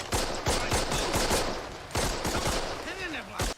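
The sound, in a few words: gunfire in Band of Brothers episode 'Carentan'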